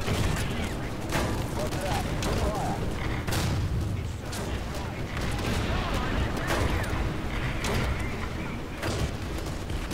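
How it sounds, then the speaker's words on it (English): Rapid machine gun fire from an M4A3 (105) Sherman medium tank in War Thunder, a dense continuous rattle of bursts mixed with booming explosions and battle noise, with someone talking over it. "Ah, machine gun."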